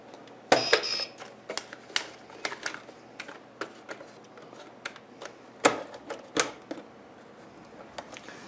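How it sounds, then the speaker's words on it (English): Paper being changed in a 4POS 60mm thermal barcode printer makes sharp plastic clicks, snaps and light rustling taps at irregular intervals, close and fairly quiet. "I'm going to change the paper quickly."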